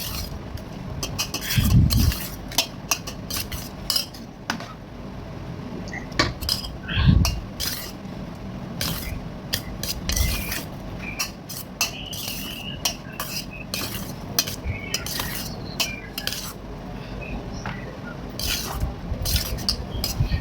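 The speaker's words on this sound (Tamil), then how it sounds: "இந்த மாதிரி ஊற்றி கிண்டிக்கோங்க" A metal spoon stirs tamarind rice in a pot, making repeated scraping strokes and sharp clinks against the rim over a faint sizzle, close and continuous with no voices.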